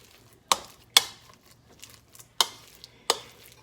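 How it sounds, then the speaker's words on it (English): Shredded cheese is stirred into a chicken cup mixture, a spoon knocking sharply against the bowl four or five times with faint scraping between the hits, close up. "just mix your cheese up, your shredded cheese up with the rest of your recipe. Get it all combined."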